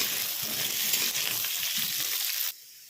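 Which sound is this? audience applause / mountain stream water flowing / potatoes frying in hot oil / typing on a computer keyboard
potatoes frying in hot oil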